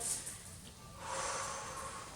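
A long, breathy exhale during a group gym exercise session, rising about halfway through and holding steady as a soft airy rush, close and moderately quiet.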